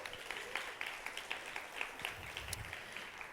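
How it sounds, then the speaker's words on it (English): A conference audience gives a round of applause for animal sanctuary activists, a soft, fairly distant patter of many hands clapping steadily for a few seconds in a large room. "So can we have a round of applause for them?"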